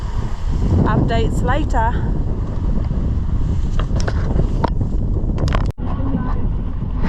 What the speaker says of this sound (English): probably another 10 minutes of this choppy seas